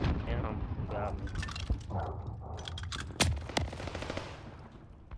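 Gunfire in the Call of Duty: Vanguard multiplayer game, Champion Hill mode: a dense stream of rapid shots and bursts with sharp loud cracks near the middle, layered with other game effects and a voice talking over it.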